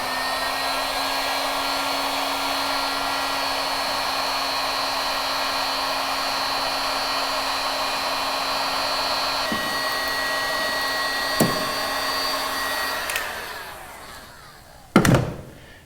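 A heat gun warms dried glue on a half-stripped, strip-built wooden kayak, giving a steady, close, whirring blow with a faint whine for about thirteen seconds before winding down. A few soft thunks follow, then one sharp knock near the end.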